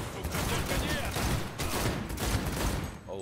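Gunfire in Cyberpunk 2077 comes as a dense, continuous barrage of rapid shots during a loud firefight, with talk and game sounds mixed in throughout.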